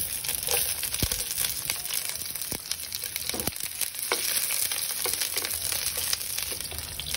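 Garlic and onion frying in a pan give a steady sizzle, with crackles and occasional sharp pops from stirring, close and continuous.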